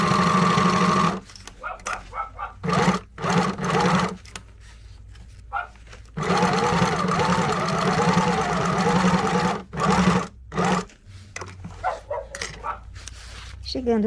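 Overlock sewing machine stitching knit fabric in several loud, steady bursts of fast whirring, broken by pauses, with a dog barking a few times in the gaps.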